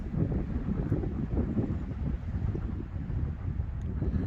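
Steady wind blowing across an open desert trail in Arizona on a cold day, a continuous low rumbling gusty roar buffeting the microphone with no pauses for the whole stretch.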